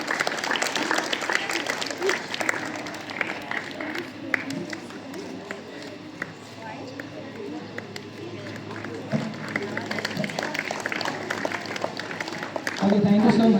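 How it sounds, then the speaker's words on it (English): Many people clap at a school sports meet, a sustained mass of applause under a loudspeaker voice, growing fuller toward the end. "Clap louder, everyone."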